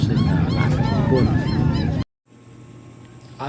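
Pet lutino lovebirds give a dense chorus of harsh, shrill chattering calls up close for about two seconds, then the sound drops abruptly to faint background noise.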